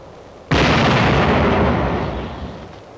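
A single heavy artillery round fired in a 1945 wartime film, an abrupt loud blast with a rumbling tail that slowly fades over a few seconds, no voices.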